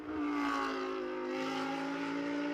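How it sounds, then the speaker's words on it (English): Lamborghini Super Trofeo race car engine at a GT endurance race, roaring steadily at high revs with a slight pitch sag, loud and close, alone without talk. "What an engine sound. It is just phenomenal."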